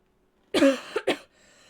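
A close cough from an adult, a harsh burst followed by two shorter coughs, then quiet.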